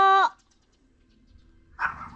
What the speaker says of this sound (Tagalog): pag nagtahulan ng mga aso, medyo maririnig na tayo